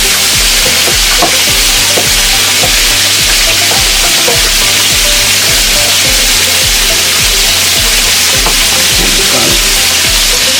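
Meat and fresh chopped garlic fry in a pot for Southern black-eyed peas, giving a loud, continuous sizzle with occasional stirring scrapes and no talking.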